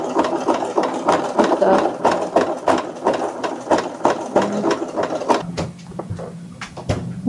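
A sewing machine stitches tape onto a bimini boat roof, running in short repeated bursts of fast mechanical clatter with brief pauses between them, close by.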